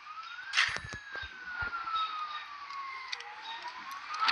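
Police car siren in the mobile game Gangstar Vegas, a clear wailing tone that slowly rises and falls throughout, with a few short game impact sounds near the start and no talk.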